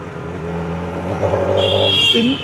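A Triumph Daytona 660 sport motorcycle engine revs and rises in pitch, a droning mechanical tone climbing briefly before dropping off, fairly close and loud, with no talking.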